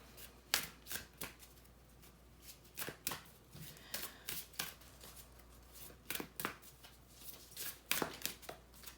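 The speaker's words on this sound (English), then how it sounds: "Let's pull one last oracle card." Oracle card deck being shuffled and cards pulled during a tarot reading, with a steady run of crisp, close riffling snaps and slaps repeating unevenly, no voices.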